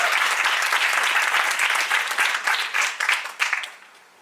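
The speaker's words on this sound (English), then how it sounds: "A big round of applause for everybody on stage." Dense applause from a pitch-competition audience for everyone on stage, steady and full for several seconds before thinning into scattered claps and fading out.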